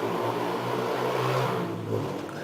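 A motorcycle passes nearby on a street, a steady engine drone with a low rumbling tone that swells toward the middle and then eases off as it moves away.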